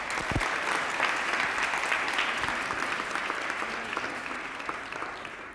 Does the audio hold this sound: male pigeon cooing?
no